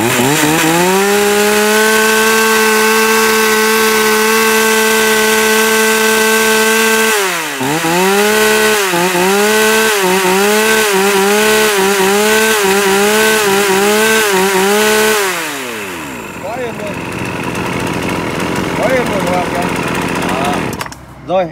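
A Japanese chainsaw engine revs and idles loudly, its pitch dipping and rising in repeated throttle pulses before cutting out, with a voice talking over it.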